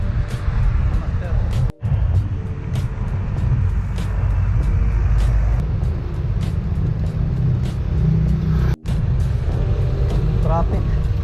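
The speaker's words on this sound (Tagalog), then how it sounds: "Traffic" Busy city road traffic heard from a bicycle on a ride from Antipolo to Quezon City, near Boni Serrano and Aguinaldo: a continuous loud rumble of cars, buses and trucks passing close by, with horn-like tones and brief dropouts.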